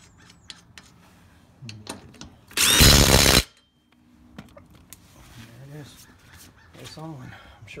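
A Dewalt DCF887 cordless impact driver hammers a car lug nut in one loud, close burst lasting under a second, with light clicks and handling noise and brief talk around it.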